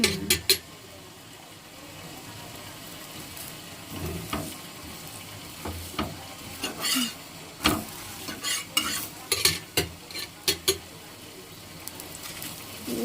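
Chapati cooking in oil on a pan, quiet sizzling beneath repeated sharp scraping and tapping from a spatula turning the bread, the strokes coming in irregular bursts.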